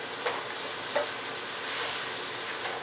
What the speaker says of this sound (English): Stir it occasionally and cook it till tomatoes become little soft.